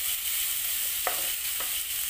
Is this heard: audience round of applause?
no